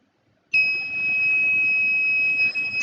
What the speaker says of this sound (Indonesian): Setelah sensor PIR mendeteksi adanya pergerakan, maka buzzer akan berbunyi